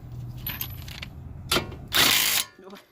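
A ratchet tightens the 17mm brake bracket bolts on a 1997-2001 Honda CR-V during a front brake job, heard as short close bursts of clicking with a longer ratcheting run near the end.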